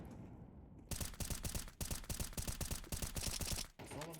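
Rapid bursts of automatic gunfire in a shooting video game, several loud, close volleys of fast rattling shots broken by short pauses, then a brief metallic ringing sound at the end.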